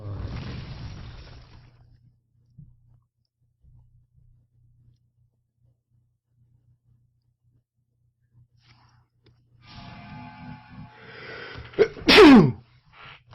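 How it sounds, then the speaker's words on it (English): A sudden sneeze bursts out near the end after long quiet stretches, loud and close, with a brief breathy intake and rustle just before it. "Sneeze."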